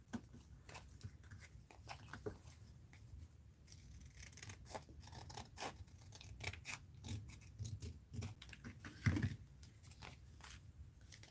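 Scissors snipping paper for a mixed-media art journal, a string of quiet, irregular cuts and rustles close by with soft handling noises, no talking.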